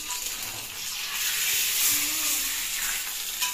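Dal tempering sizzles in a pan, a soft crackling hiss of hot oil that swells gently and carries on steadily with no talk.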